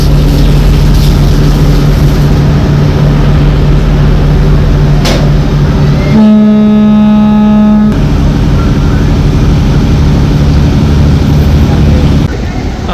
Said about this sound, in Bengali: এই দিক দিয়ে একটি বিএমএলপি গ্যাস ক্যারিয়ার যাচ্ছে গ্যাসের জাহাজ